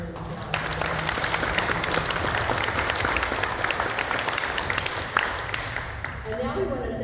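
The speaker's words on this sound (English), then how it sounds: "Let's give them another round of applause." A seminar audience applauds its panelists with dense, sustained clapping that fills the room for several seconds before fading out at the end.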